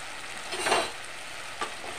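Turmeric and Kashmiri chilli powder going into hot oil for a vegetarian mustard dish, a soft steady sizzle with a brief swell of stirring and a short later scrape, close and quiet with no talking.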